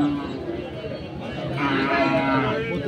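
Sahiwal bull calves mooing at a busy livestock market, with loud overlapping bovine calls throughout and a murmur of people talking in the background.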